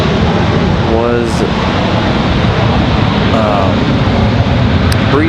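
A Breeze Airways airliner departs Raleigh-Durham airport, its steady loud jet engine roar filling the air continuously, with faint voices in the background.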